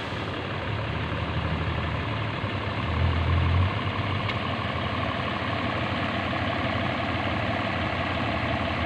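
A dump truck's engine idles steadily and fairly close while it tips soil, a continuous low diesel rumble with a slight swell midway and no talking.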